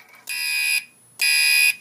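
A Simplex 4251 pull-station-triggered fire alarm system sounds two loud, steady electronic horn bursts of about half a second each, separated by a short silent gap, close and alone.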